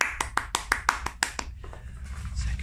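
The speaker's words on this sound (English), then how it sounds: "Round of applause to Ashley." A brief round of applause, a handful of sharp separate claps in quick succession that fade out after about a second and a half, leaving quiet background.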